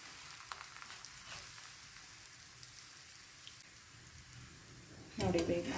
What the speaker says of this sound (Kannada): ಅದಕ್ಕೆ ಸ್ವಲ್ಪ ಮತ್ತೆ ಎಣ್ಣೆಯನ್ನು ಹಾಕೊಳ್ಳಿ ಸ್ವಲ್ಪ ಮೀಡಿಯಮ್ ಫ್ಲೇಮಲ್ಲಿಟ್ಟು ಬೇಯಿಸ್ಕೊಳ್ಳಿ